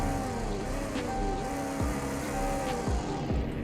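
Engine of the 2018 Bullhorn Prancer Sheriff police car in the Greenville video game, a steady droning idle with layered harmonic hum and several quick revs that rise and fall, close and fairly loud with no talking.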